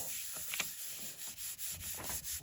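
A hand rubbing across a piece of white paper laid over an inked print, a close, papery swishing in repeated strokes with brief pauses between them.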